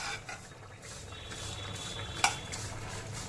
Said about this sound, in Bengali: এখন এই ঘিয়ের মধ্যে সেমাই আর তেজপাতা দিয়ে দিয়েছি, একটু রোস্ট করে নেব